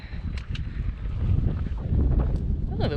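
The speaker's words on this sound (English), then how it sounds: "Oh, the wind has picked up." Wind gusts buffet the microphone on a mountain hiking trail up Chocorua, a rough low rushing that builds over a few seconds, with a couple of faint sharp sounds on top.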